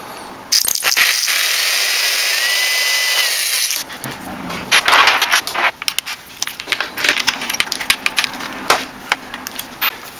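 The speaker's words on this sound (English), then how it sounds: "So when I start with the bigger drill bit, it won't slide all over the place." A power drill whines steadily for a few seconds, then gives way to rough, uneven grinding and crunching bursts as a larger bit bites through hard plastic.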